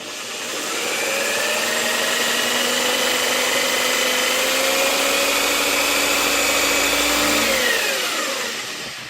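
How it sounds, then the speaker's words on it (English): Power drill boring a hole in a Vestax PDX turntable, a loud steady high-pitched whine that holds for about seven seconds, then spins down as the trigger releases. "I'm just going to put a hole right there"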